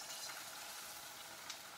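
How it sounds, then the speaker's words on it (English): Chicken pieces, cut into about one-inch chunks, sizzling in hot oil in a pan for lemon chicken, a steady bright crackling hiss with no voices, quiet but continuous throughout. "let's put our chicken in. It's gonna sizzle right up."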